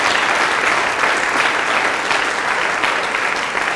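A church congregation applauds loudly and steadily after a Scripture reading, a dense, continuous wash of clapping from a full room with no pauses.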